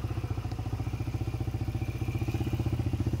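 A Yamaha XTZ125 motorcycle's single-cylinder engine idles steadily up close after finally being started, its rapid even putter pulsing without a break.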